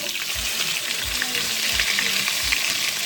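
Chicken drippings and cream cheese sizzle and fry steadily in a pan while turning into gravy, a dense continuous crackle with a few low stirring thumps at regular intervals.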